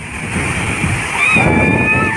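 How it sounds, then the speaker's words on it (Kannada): Muchkandi mini waterfall pouring steadily as a broad, continuous rush of water, close and loud, with faint tonal sounds rising over it in the second half. "ಜಲಪಾತ ನಮ್ಮ ಮುಚ್ಕಂಡಿ ಮಿನಿ ಜಲಪಾತ ಇಲ್ಲದ ನೋಡ್ರಿ ಇದೇ ಜಲಪಾತ"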